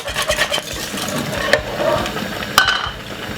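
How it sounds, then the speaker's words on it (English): A whisk stirs Jamaican cornmeal porridge with nutmeg in a pot, making continuous wet swishing and bubbling with occasional light taps against the side. "Give it a good whisk"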